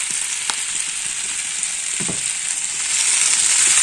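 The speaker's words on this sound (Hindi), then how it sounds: "तो इसको अभी अच्छे से फ्राई करना है" Rice, potato and freshly ground masala frying in a pan, giving a loud, steady sizzle that swells toward the end, with a few soft utensil knocks, nearby and with no talking.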